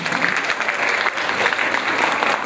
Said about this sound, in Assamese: গতিকে তোমালোকে এবাৰ ষ্টেট বেংকৰ কাৰণে এজাউৰি হাত চাপৰি মাৰা।